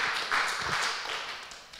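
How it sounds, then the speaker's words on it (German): An audience bursts into brief applause, with claps bunched near the start that thin out and fade over a couple of seconds. "bitte, Beifall, ja."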